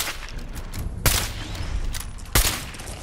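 A rapid VATS-enhanced combat shotgun fires in the video game Fallout 4: two loud, sharp blasts about a second apart over a low background rumble.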